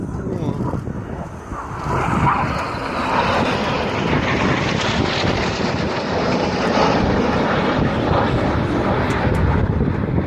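Red Arrows jets fly a corkscrew manoeuvre with the synchro pair upside down at the Yeovilton air day, making a loud, broad roaring rush that swells and holds, with wind buffeting and a commentator speaking over it.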